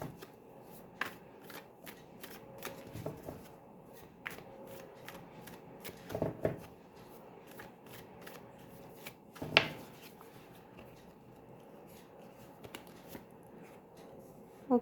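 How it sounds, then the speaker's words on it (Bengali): Tarot cards riffled and handled in a quiet room, with repeated soft shuffling flicks and a few sharper card snaps scattered across the stretch, no talking. "আমি প্রত্যেকটা কার্ডের এগেনস্টেই আরও ক্লিয়ার এক্সপ্লেনেশনের জন্যে একটি করে কার্ড বেছে নেব।"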